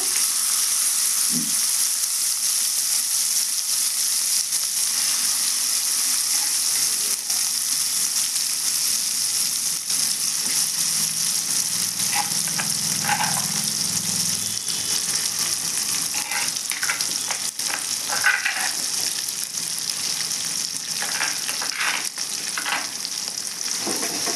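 Ground nalleru paste frying in hot oil for a chutney, a constant hissing sizzle that runs the full length, with scattered clicks and stirring taps of a spoon in the pan later on, close up and with no speech.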